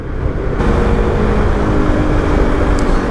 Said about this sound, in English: There's a very nice exhaust note, very pleasing to the ear when you're riding like this.